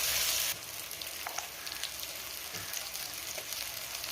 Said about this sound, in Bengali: হলুদ গুঁড়ো ভালো করে আবার একটু নাড়তে হবে